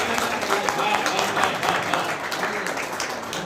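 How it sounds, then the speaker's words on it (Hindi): Audience applause at a Hindi poetry recital, a steady crowd of clapping hands lasting throughout, with a voice or murmur mixed beneath the claps. "एक बार जोरदार तालियां"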